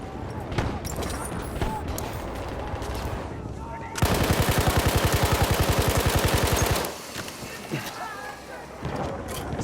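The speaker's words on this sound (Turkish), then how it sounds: "Orada bir makinalı tüfek var." Battlefield 1 machine gun fire rattles in a fast sustained burst amid a Suez Canal battle, loud and close, with scattered gunshots and combat noise around it and voices in the mix.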